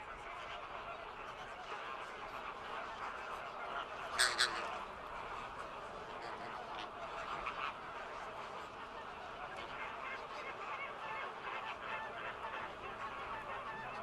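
Nesting flamingos at a colony in Cuba, a constant low chorus of honking, goose-like calls from many birds at a distance, with one louder honk standing out briefly.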